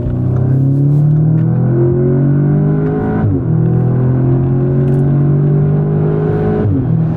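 A 2017 Audi S3 with a 296-horsepower engine pulls hard up a highway ramp, its steady loud drone climbing in pitch through two gears with short dips at the shifts, heard from inside the car.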